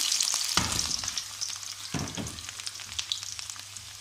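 Onions dropped into hot oil in a kadai for chicken korma, bursting into loud sizzling and crackling that settles into a steady fry, with a couple of stirring scrapes.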